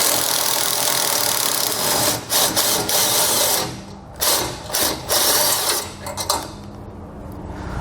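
A ratchet wrench with a 13mm socket turning exhaust bolts during a trailer hitch installation on a 2019 vehicle, a rapid clicking whir in several bursts with short pauses, close and fairly loud.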